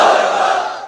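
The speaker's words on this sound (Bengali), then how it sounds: "সবাই মিলে তিনটা পড়েন লিল্লাহি তাকবীর।" A large gathering of people shouts a takbir together, a loud, dense roar of many voices in unison that holds steady and then begins to fade.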